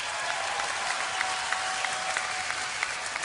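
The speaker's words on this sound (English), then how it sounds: "So get ready to applaud more" Audience at BlizzCon 2010 applauding during a Diablo III Q&A panel, a steady, dense wash of many hands clapping at once that holds evenly throughout with no talk over it.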